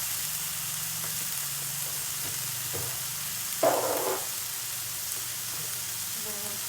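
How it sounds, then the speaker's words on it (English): Steady sizzling hiss of sponge gourd sautéing in a pan, with a brief louder crackling burst partway through as warm water hits the hot oil. "Hear that lovely sizzle."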